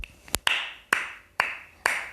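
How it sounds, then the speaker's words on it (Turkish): Hands clap a handful of times in an uneven rhythm, sharp and close, with bright slaps ringing briefly after each one and no talking over them. "alkışlıyorum arkadaşlar Konami'yi"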